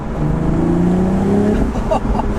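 A 2020 BMW Z4 M40i turbo inline-six engine revs hard and steady around 3,000 RPM in Sport Plus mode, its deep droning tone climbing slightly before a brief dip, loud and close.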